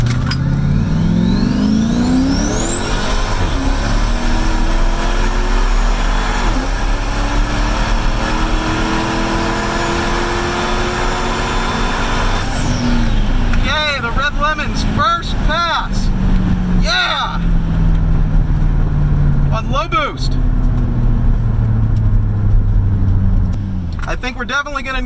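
Car launching hard at a drag strip, the engine revving up in long rising sweeps before dropping away, with a high whine, sharp bursts and a voice talking over it.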